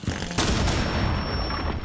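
Gunfire in a competitive Rainbow Six Siege-style shooter, aimed at a Goyo shield: a loud, sustained burst of shots that holds steady for about two seconds.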